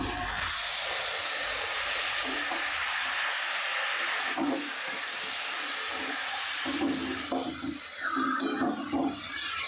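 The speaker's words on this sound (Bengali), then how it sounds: "এরপর ম্যারিনেট করা চিকেনটি আমরা এর উপর দিয়ে দিলাম।" Marinated chicken dropped onto fried onions in a pan for chicken biryani, setting off a loud, steady, close hissing sizzle that holds for the whole stretch, with faint stirring clatter near the end and no talk.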